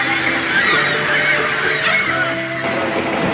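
A dense colony of seabirds including pelicans, boobies and cormorants, a continuous chorus of overlapping honking and croaking calls heard from a boat, loud and steady throughout with no talk.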